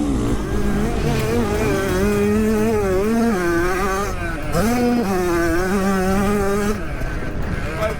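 An 85cc two-stroke motocross bike races flat out during a motocross battle, its high, buzzing engine whine rising and falling with each throttle change, loud and close throughout.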